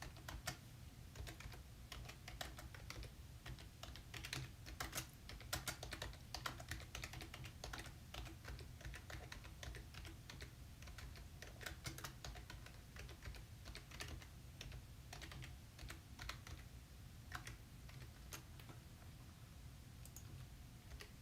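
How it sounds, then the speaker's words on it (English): Continuous typing on a computer keyboard, close and steady bursts of key clicks with brief pauses, alone without talk. "So just let me type in this."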